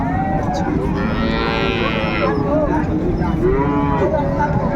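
Cows mooing at a busy village cattle market in Dinajpur where dairy cows are sold with their calves; long, loud, drawn-out lowing calls rise over a constant crowd murmur and background chatter.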